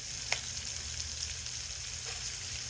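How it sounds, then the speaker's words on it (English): Pork and vegetables browning in a pot give off a steady, dense sizzle close by, with a few brief pops and stirring scrapes. "I'm gonna go ahead and put my vegetables in. And we're just gonna start browning it with that"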